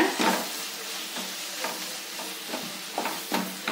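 A spiced potato mixture for aloo poori sizzles in a pan while a utensil stirs it in rhythmic scraping strokes, close and fairly quiet.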